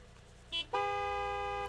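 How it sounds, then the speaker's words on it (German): Car horns honk in the video game Gas Station Simulator: one short toot, then a longer, loud, sustained blare. "Oder warum hupen die da draußen rum?"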